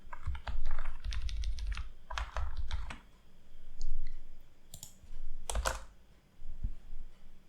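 Python code being typed on a computer keyboard, bursts of quick close key clicks separated by short pauses, clear and alone with no talking.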